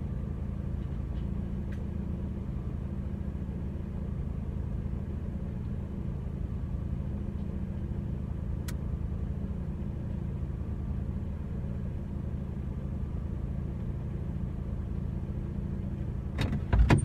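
A car rolling slowly into a dog field off the A419, a steady low engine rumble and drone throughout, close and even, ending in a brief clunk, with no talking.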